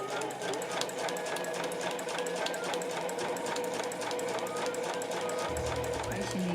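Sewing machine running steadily while stitching a smartphone pochette, a fast, even mechanical whir and needle chatter close by and fairly quiet, with a voice talking faintly over it.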